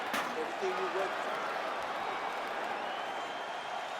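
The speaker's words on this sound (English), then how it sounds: "Crowd fired up, so are we." Steady roar of an arena crowd cheering in a UFC fighting video game before the third and final round of Robert Whittaker versus Yoel Romero, loud and continuous with a brief burst of clapping at the start and commentary talk over it.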